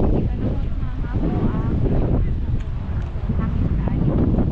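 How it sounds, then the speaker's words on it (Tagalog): Wind blows hard across the shore at Pompano Beach, rumbling and buffeting the microphone in a constant low roar while people talk over it. "hangin na ayun."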